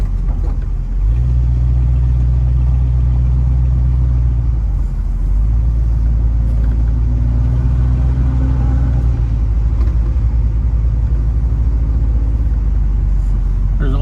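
A 1969 Chevrolet Camaro SS350 driven on a road, its engine giving a steady low rumble from inside the cabin with a mild rise in revs partway through, and no speech over it.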